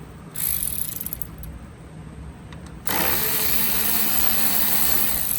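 A power tool whirs in short bursts as an 8mm bolt is removed from the air intake of a GMC Yukon or Chevy Tahoe 5.3L/6.2L, followed by a steady loud mechanical whine running to the end.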